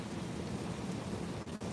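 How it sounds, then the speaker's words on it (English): Heavy rain drums steadily on a moving car's body and windshield, a dense, continuous close patter filling the cabin with no voices. "I hate that rain like that."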